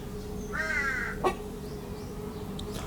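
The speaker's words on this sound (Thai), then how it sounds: "ตอนนี้เสียงอีกาก็ดังมากครับ" A crow gives a clear, drawn-out caw at moderate distance, followed by a short sharp knock and faint, quieter bird calls afterward over a low steady background hum.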